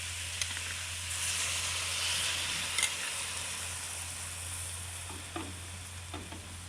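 Squid frying with sliced radish in a pan for adobong pusit, a steady close sizzle with occasional stirring scrapes and clinks, no talking.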